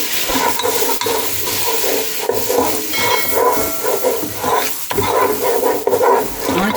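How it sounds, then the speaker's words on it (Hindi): A spoon scrapes and stirs flour in melted butter over a low flame in a pan for a white sauce, with a soft continuous sizzle and a rhythmic scraping close by. "मैदा ऐड है। मुसलसल चम्मच चलाते रहना है।"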